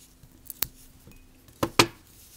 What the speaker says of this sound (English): I'm going to go ahead and trim that.